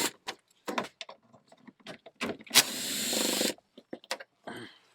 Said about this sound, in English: I'm just using a snap-on screwdriver, electric screwdriver, with a 10 mil socket